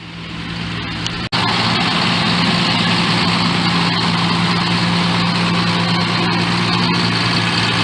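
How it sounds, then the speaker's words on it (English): A Beach King beach cleaning machine sits idling on a dog beach among heavy construction equipment, its engine a steady, loud, low drone after a brief click. "Oh, it's Beach King. Beach Cleaning Machine"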